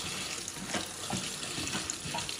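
Tap water runs steadily over macaroni being rinsed in a kitchen sink, a continuous close hiss and splash with no talking.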